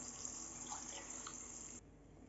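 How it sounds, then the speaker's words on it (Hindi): Water pours in a steady stream into a pot of mash lentils, a continuous splashing rush that stops abruptly near the end of the pour. "तो अब मैं इसमें डालूंगी 2 प्याली पानी।"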